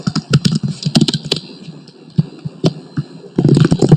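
Close, loud computer keyboard typing while writing Java code, with bursts of quick keystrokes separated by brief pauses and a final rapid flurry of clacks.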